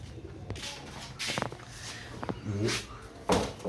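A newly paired male and female pigeon coo in soft, throaty bursts with a few sharp taps and flutters, close by and spaced over a few seconds.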